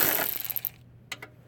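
A ratchet clicks briefly on 10mm bolts under a Jeep Cherokee XJ, a few sharp metallic ticks after a short scraping burst, close and faint.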